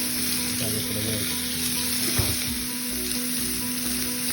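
A steak sizzles loudly and steadily in a hot pan, a dense close frying hiss under a constant electrical hum, with one brief knock partway through and no talk.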